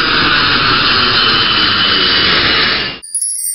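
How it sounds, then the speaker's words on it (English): A jet airplane roars past in flight with a broad, steady whoosh and high whine, loud and continuous. It cuts off suddenly and a brief bright chime follows. "Airplane."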